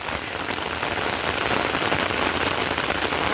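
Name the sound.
heavy rain falling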